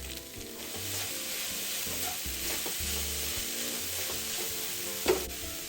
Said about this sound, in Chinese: 加入蒜苗200克，这蒜苗切细一点，比较容易炒熟